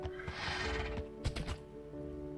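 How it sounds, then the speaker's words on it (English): A horse whinnies loudly in modded Minecraft, a drawn-out neigh followed by a few clip-clop hoof sounds, close and clear with no talking. "I need to find somewhere to put my horse."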